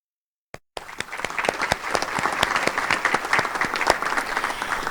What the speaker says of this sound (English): hold your applause until the end, please